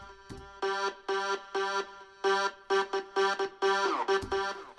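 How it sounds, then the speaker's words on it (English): Short, abruptly cut bursts of a sung vowel tone repeat in a choppy rhythm, separated by brief gaps of silence. "So this is just a vocal cut up."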